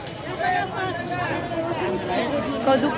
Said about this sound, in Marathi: एवढी गर्दी आहे, एवढी गर्दी आहे.